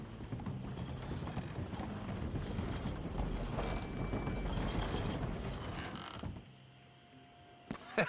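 Horse hooves clopping with creaking tack and mechanical rattles in the video game Red Dead Redemption 2, a steady quiet stream that cuts out near the end.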